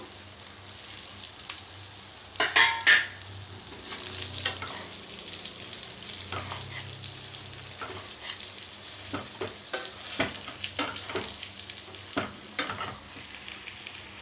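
Brinjals frying in oil with spice powder in a pan, a steady hiss of sizzling oil with a series of scraping stirring strokes and light taps, near and moderately loud with no talking.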